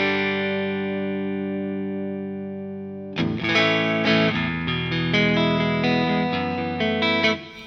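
Electric guitar played through a Joyo Jam Buddy II amp simulator with reverb on: a sustained chord rings and decays, then a run of bright, slightly overdriven picked notes with a reverberant tail.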